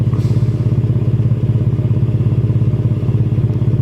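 A 2020 Ford F-150 with the 2.7 EcoBoost engine and an MBRP catback exhaust idles close to the mic, giving a loud, steady, throbbing exhaust pulse for a few seconds with no talking.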